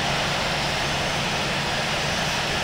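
Airplane engine in a flight video game during a gear landing, a steady loud broadband roar holding evenly throughout with no talk over it.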